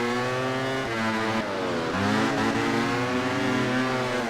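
MotoGP racing motorcycle engine in MotoGP 13, a loud close high-revving whine climbing and shifting through gears over about four seconds, continuous and alone.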